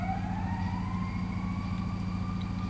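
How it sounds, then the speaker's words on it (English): An ambulance siren wails steadily close by, with a rising tone over a low rumbling engine drone, loud and continuous with no talking. "Ambulance."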